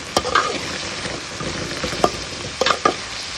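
Ginger and garlic sizzle and fry in a hot pan, with a few sharp clatters of a spoon stirring and scraping through it.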